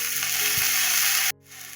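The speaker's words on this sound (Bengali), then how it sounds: "জল দিয়ে দিলাম, মশলাটা একটু ভাজা ভাজা হইব।" Spices and cumin fry with a splash of water in a pan for a taro and koi fish curry, a loud, dense continuous sizzle that cuts off abruptly, leaving a quieter hiss.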